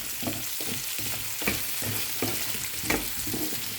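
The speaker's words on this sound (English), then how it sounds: "sauté the garlic and onion at the same time" Garlic, onion and pumpkin sauté in a pan with a soft, steady sizzle and rhythmic scraping strokes of stirring.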